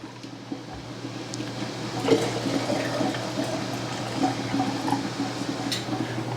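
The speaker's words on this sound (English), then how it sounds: "I'm adding boiling water in with these beans" Boiling water pours and gurgles continuously into jars of chickpeas for several seconds, with small splashes and a steady liquid rush, close by.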